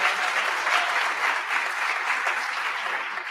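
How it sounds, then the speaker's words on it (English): An audience at a Board of Education meeting breaks into steady, sustained clapping, a dense even wash of many hands that stays loud throughout without speech. "Yes, you can clap."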